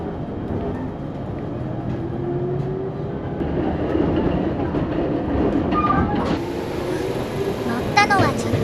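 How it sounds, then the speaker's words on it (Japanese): Tobu Urban Park Line train rumbling past at a station in Saitama, a steady loud rolling drone with wheel clatter and a brief high squeal near the end, no talking. "アーバンパークラインがやってきたのだ。"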